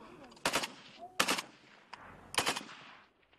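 Bursts of automatic gunfire at a military shooting practice, three loud volleys about a second apart, each a rapid string of shots fading between them.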